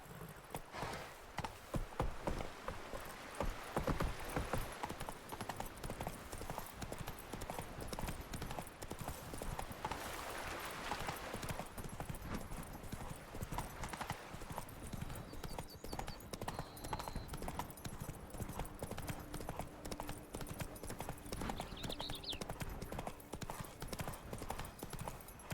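Steady horse hooves clip-clopping on the ground in The Witcher 3: Wild Hunt Blood and Wine, a continuous walking rhythm under ambient game sounds with a brief whinny-like call.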